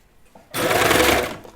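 A sewing machine hemming a rolled edge on a knit T-shirt, starting abruptly after a faint rustle and running in one close, loud, steady burst before tapering off.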